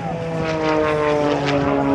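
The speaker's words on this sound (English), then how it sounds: "Now as you watch him bring that airplane right back down the neck," Zivko Edge 540 aerobatic propeller plane performing at an airshow, its engine droning steadily and loud, with a rising and falling pitch as it maneuvers nearby.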